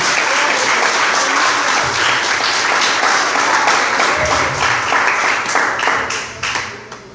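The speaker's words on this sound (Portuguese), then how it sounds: "Quem entendeu, dá uma salva de palmas para Jesus nesse lugar" A church congregation at an evangelical service claps together in a dense, loud, sustained round of applause that thins out toward the end.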